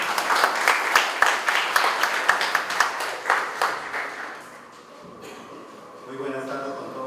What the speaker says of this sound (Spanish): Fuertes aplausos para él, por favor.